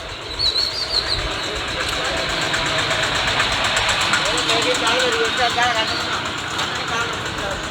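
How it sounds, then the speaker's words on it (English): A tractor's heavy engine rumbles steadily nearby, growing louder as it passes on a street in Ja Ela, Sri Lanka, with faint birdsong and street noise in the background. "We'll just let this tractor come by."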